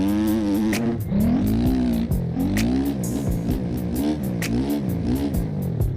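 A motocross bike engine in MX Bikes revs hard through a wheelie, pitch climbing and dropping in repeated sweeps with sharp shift-like breaks, loud and close throughout.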